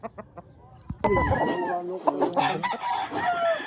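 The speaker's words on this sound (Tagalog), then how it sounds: "Sweater bulik ni Nico Boy. Bullstag na niya" A young game fowl rooster, a bullstag on a gamefarm, crows loudly close by and follows with a stretch of busy clucking after a second of quieter background clucks and light taps.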